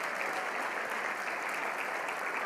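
Church congregation applauding together, a steady dense wash of clapping held at an even level throughout, with no voices over it.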